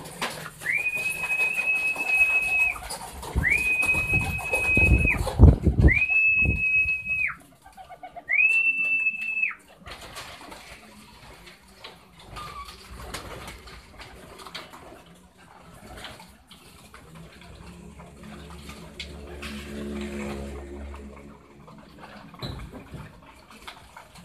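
Pigeons at a loft landing board, with soft low cooing and bird sounds near the end, after a run of repeated shrill whistle tones at the start; no talking.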